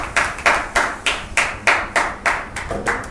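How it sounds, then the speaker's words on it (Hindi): A congregation at a Hindi-language Bible study service claps together in a steady, loud rhythm, about ten sharp claps in three seconds, with no talking. "जोरदार ताली हो जाए प्रभु यीशु मसीह के लिए।"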